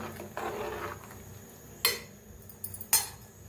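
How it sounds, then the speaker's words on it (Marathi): A spoon stirs masala rice with salt and coriander in a pot, giving a soft scrape followed by a few sharp metallic clinks against the rim in a quiet kitchen. "तर एकदम मिक्स करून घेऊया."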